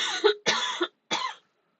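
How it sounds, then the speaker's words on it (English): Three harsh coughs in quick succession, close and fairly loud, followed by silence. "I've got a cough."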